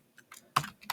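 A few keystrokes on a computer keyboard, tapped irregularly and up close in a quiet room, ending with two louder clicks.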